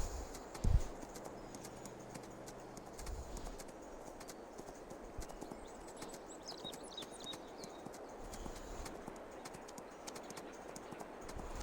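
Faint, quiet video-game horse hoofbeats clip-clop at a steady pace under a soft ambient hum, with one louder thud near the start, in Farming Simulator 22.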